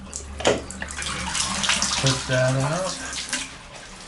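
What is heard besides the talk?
T2000 shower head running water and draining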